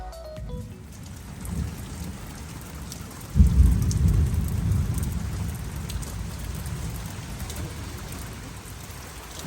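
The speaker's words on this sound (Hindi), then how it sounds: "और अच्छी तेज़ बारिश हो रही है।" A heavy night rainstorm hisses steadily and close, and a deep, loud roll of thunder breaks in a few seconds along, then slowly fades back under the constant downpour.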